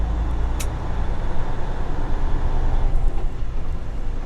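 A recently bought truck runs under load with steady low engine rumble and a brief hiss early on as it shifts through gears, close and continuous.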